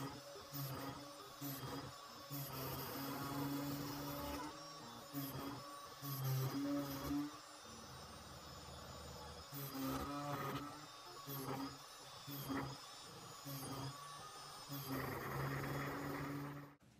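A CNC machine milling acrylic plates, a steady mechanical whine with layered tonal hums and periodic changes in pitch as the cutter moves, close and continuous.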